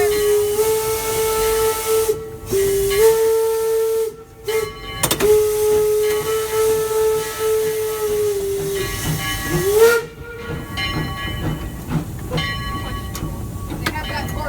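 Steam locomotive whistle on the Glenbrook train at the Nevada State Railroad Museum, with long sustained tones, pitch bends and breaks, over heavy steam hiss and rail rumble, while people talk in the cab.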